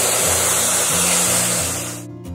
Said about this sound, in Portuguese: eu vou apenas secar com o auxílio de um secador